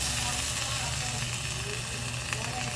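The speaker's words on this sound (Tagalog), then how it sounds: "Lagyan natin siya ng soft drinks na Sprite" Steady loud sizzle of mussels cooking in a pan as Sprite soda is poured in, a constant bubbling hiss with no pauses, close up and filling the whole moment.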